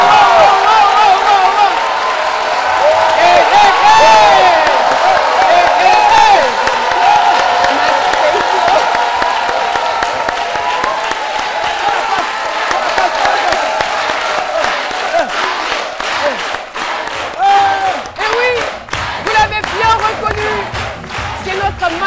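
A studio audience on a midday TV show applauds and cheers loudly for a guest, with sustained clapping, whoops and crowd shouts that later break into sharper, more scattered claps.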